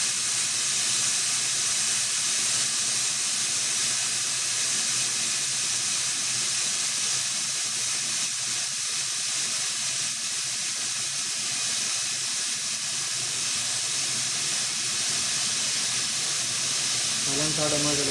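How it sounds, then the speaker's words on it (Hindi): A pressure cooker cooking mutton curry vents steam in one loud, continuous hiss that holds steady from start to finish. "बस कुकर की गैस निकल रही है"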